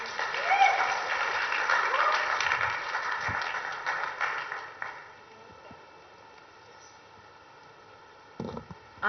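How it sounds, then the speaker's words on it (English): An audience at a conference applauds, a bright burst of clapping mixed with cheers and murmurs for several seconds, then fading abruptly to near quiet, with a few faint claps and a thump near the end. "Can we have a round of applause, please?"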